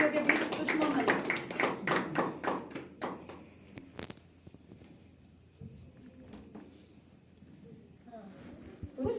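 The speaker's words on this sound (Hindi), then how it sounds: "जोरदार तालियों के बीच" Audience claps at an open mic poetry evening, a run of sharp, loud claps for about three seconds that then dies away into scattered faint taps, with voices present in the room.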